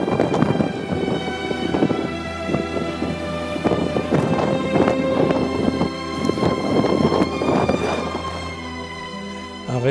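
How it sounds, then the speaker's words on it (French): Violent storm wind buffeting a mountain ridge on the Crête de la Gâche, a continuous roaring gust noise pounding the microphone with irregular surges throughout, loud and without talk. "un vent violent en tempête nous déséquilibre en permanence"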